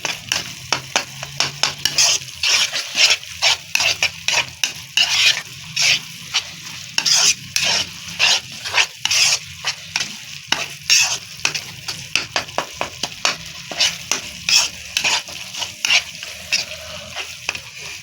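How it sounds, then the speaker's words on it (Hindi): A guava mixture with vinegar sizzles in a pan while a spoon stirs and scrapes it in quick, steady rhythmic strokes, close and continuous under a constant frying hiss. "अब इसको भूनेंगे अच्छी तरह"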